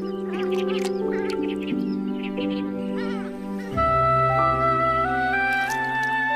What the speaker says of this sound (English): in the marshes, the most eye-catching are the purple swamp hens